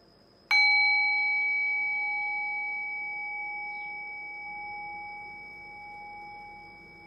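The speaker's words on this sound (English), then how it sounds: "Now ring the sound of the meditation bell. Allow the decay of the bell to guide your awareness into silence." A meditation bell is struck once and rings with a clear, sustained tone, its shimmering overtones decaying slowly into a quiet room.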